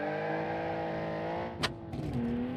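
A 500-horsepower boxer-six turbocharged car engine in the game Automation drones steadily at high revs, then briefly drops and rises again with a sharp burst.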